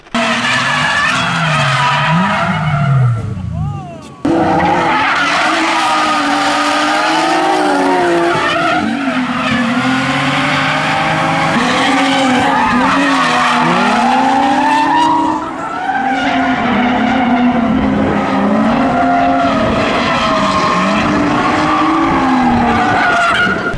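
A Nissan 350Z drifts on a track, its tires squealing in long wavering howls over a loud engine that rises and falls, close up, with one short drop partway through.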